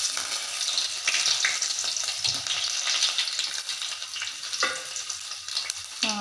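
Mustard seeds splutter in hot oil for a jackfruit-seed and mango curry, producing a continuous bright crackling sizzle with scattered pops, close and fairly loud throughout.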